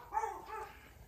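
A dog gives one brief, faint bark or yelp, soft and somewhat distant, with no voices around it.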